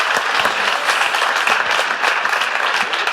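A loud crowd applauds at a book publisher's presentation event, with continuous close clapping from many hands and a few louder individual claps standing out across the whole stretch.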